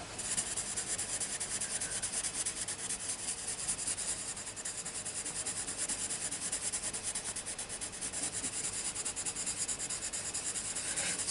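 Bambino crayons rub firmly over paper in a continuous, close, quiet scratchy rasp of burnishing strokes, steady and even for about 11 seconds.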